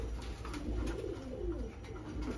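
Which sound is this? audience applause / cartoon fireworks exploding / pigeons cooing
pigeons cooing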